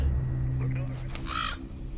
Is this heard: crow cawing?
yes